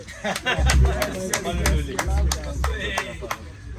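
A crowd at a prayer gathering applauds with a string of sharp, irregular claps over a loud low hum, while a voice talks over the clapping throughout.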